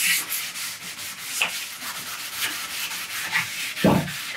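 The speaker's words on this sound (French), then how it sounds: "cette mousse à poncer, elle me permet d'épouser vraiment toutes les formes, hein, tous les arrondis" A sanding sponge rubs over painted wood, making close, rhythmic scratchy strokes in quick repeated passes, with a small knock near the end and no talking.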